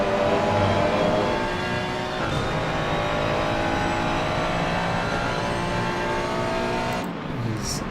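Ferrari race cars in a PC sim racing game at Indianapolis, with a steady, loud engine drone that holds throughout and a brief dip near the end, as if a car passes by.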